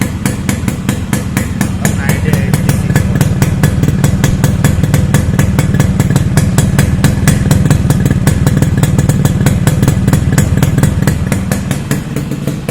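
A Yamaha RX100 two-stroke motorcycle engine revving hard with rapid, sharp popping bursts in a fast machine-gun-like rhythm, loud and close throughout.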